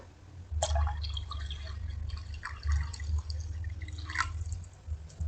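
Water poured from one container into another, combining measured volumes, a close, soft splashing and dripping with a few brief clinks, fairly quiet over a low hum.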